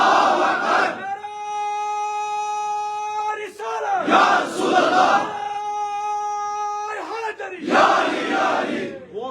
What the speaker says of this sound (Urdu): نعرے تکبیر اللہ اکبر